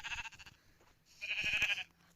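Sheep bleating in the Minecraft video game, two short wavering bleats in quick succession, close and fairly loud with no talking.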